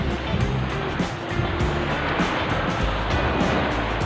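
Big ocean surf pounds a south-coast white-sand beach in Indonesia, a continuous loud roar of breaking waves with rhythmic surges and wind, close and steady throughout.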